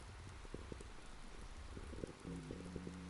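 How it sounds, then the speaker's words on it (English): Rain falling steadily with scattered drips and taps on a nearby surface, a soft wash of noise beneath, and a faint low hum near the end. "It's currently raining here."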